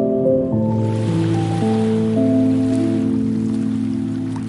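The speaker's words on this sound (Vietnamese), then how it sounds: "Đây là âm thanh phần sóng." Sea waves sound effect added in CapCut: a steady, soft wash of surf noise runs under sustained music tones throughout, never rising above the music.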